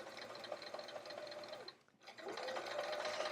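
A sewing machine runs steadily while stitching a seam of a pocket for a travel art folio, pausing briefly in the middle before starting up again, close and fairly quiet with no talking.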